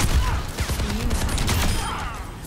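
Sniper rifle fire in Overwatch 2 as Widowmaker, with sharp shots ringing out over a busy, dense wash of game effects and background gunfire.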